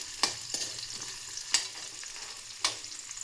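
A spoon stirs onions, green chilli and mustard seeds in a pan for masala noodles, with four or so sharp scraping clinks over a faint, soft sizzle.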